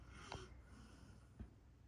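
A girl snores or snorts faintly while lying awake, two short breathy snorts spaced about a second apart, quiet and close with no talk.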